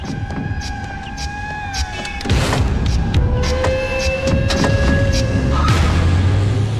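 People climb into a car, with thumps and a car door slamming shut amid steady background rumble and tones, fairly loud and without clear talk.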